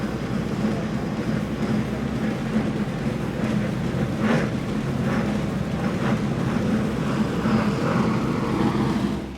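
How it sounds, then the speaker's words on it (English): A 44-foot Outer Limits powerboat with Mercury Racing 860 engines runs on Gulf waters, its deep, steady drone mixed with wind and rushing water. "let's listen in to those Mercury Racing 860s"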